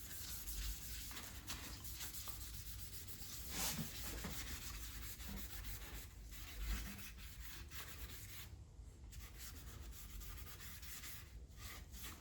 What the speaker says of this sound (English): let's say 800 grit sandpaper, that's going to be a little too aggressive